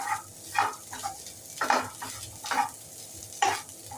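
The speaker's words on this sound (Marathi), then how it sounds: "आता आपण खोबरं घालूया ते सुद्धा गुलाबीसर होईपर्यंत परतून घेऊया" Grated coconut and onion frying together in a pan, a low background sizzle punctuated by rhythmic scraping strokes of a spatula roughly every half second, close and moderately loud with no voices.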